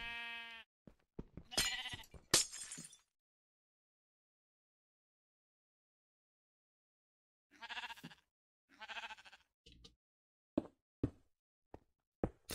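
Minecraft sheep bleating in a survival world, several wavering bleats up close with long silent gaps, followed by a few sharp block-like knocks and clicks near the end.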